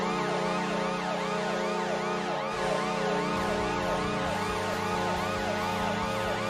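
An NHL arena goal siren wails in fast repeated rising and falling sweeps, loud and continuous, over a steady low tonal horn that shifts midway.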